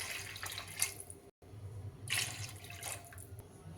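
Water is poured into a pot of rice for khichdi, a steady, soft splashing stream that breaks off briefly and then resumes, heard up close with no talking.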